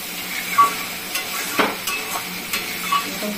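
Spices fry in oil in a pan for a katla fish curry. A steady sizzle runs underneath, and a spatula stirs and scrapes now and then.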